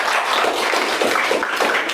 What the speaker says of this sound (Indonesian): Boleh dong kasih tepuk tangan buat teman kita.